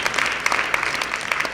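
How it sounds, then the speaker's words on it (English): Audience applause at a national SEZ strategy framework workshop, a steady wash of many hands clapping with a few sharper claps standing out, continuous and fairly close throughout. "Let's give ourselves a big, big round of applause."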